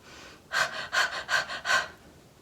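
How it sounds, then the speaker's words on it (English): A person demonstrates anxious, rapid breathing high in the chest, the fight-or-flight response: four quick, close, loud breaths in a steady rhythm, each rising and falling sharply, with no talking. "anxious breathing, which is the fight-flight response in the body"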